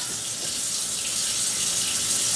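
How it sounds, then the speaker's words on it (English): Hot water pours from a kitchen tap into a sink for soaking a plate, a continuous bright splashing rush at close range, steady and loud from start to finish, with no voices. "Some hot water and soap."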